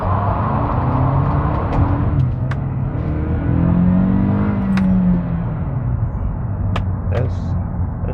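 A 2017 Toyota Camry SE with a 6-speed automatic revs with the foot on the gas while held on the brake: a steady low rumble swells into a rising engine drone, then settles, with a voice talking faintly underneath.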